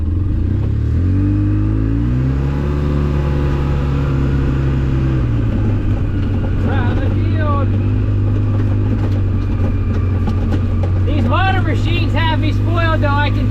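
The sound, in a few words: Polaris RZR 800 S engine driving, shifting from reverse into high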